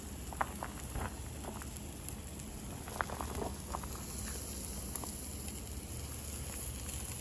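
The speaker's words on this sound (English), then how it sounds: "Now that the New York strip's been searing for a couple minutes, we'll flip to the other side" New York strip steak searing on a grill, a steady crackling sizzle with scattered pops, moderately quiet and continuous.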